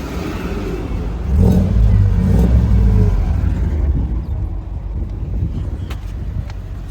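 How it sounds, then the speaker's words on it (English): A V8 car engine rumbles loudly nearby, its idle surging up and then sagging back down as the revs hunt, with gusty wind noise over the microphone. "I have a slight problem with the V8. It keeps on idling up and down when the temperature is high."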